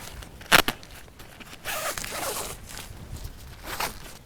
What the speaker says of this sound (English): You do have to kind of pull and tug a little bit to get everything unzipped.